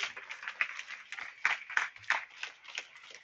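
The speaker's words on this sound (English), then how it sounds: "Crowd is clapping, impressed with that touch." Scattered applause from a small crowd at a men's senior épée fencing final at the Oslo Cup, light uneven clapping that rises and falls over a few seconds, fairly faint and without talk.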